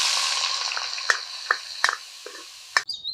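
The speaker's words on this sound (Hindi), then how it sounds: "अब इसमें प्याज और हरी मिर्च डाल के भूनो।" Chopped onion and green chillies frying in hot oil in a kadai over a mustard-seed and asafoetida tempering, with a steady close sizzle broken by a few sharp clinks and scrapes of stirring.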